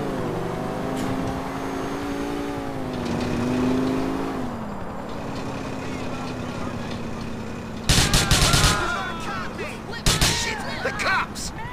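Video game gunfire crackles in two loud rapid bursts of shots, heard over a backdrop of car engine noise and lingering music-like tones.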